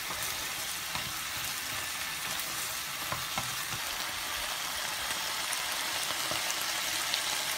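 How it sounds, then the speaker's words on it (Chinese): Green and red peppers stir-fry with cola-braised tofu, giving a dense, even sizzle like light rain. Faint scattered stirring ticks sit on top of it. No voices are heard. "下入青红椒炒到断生"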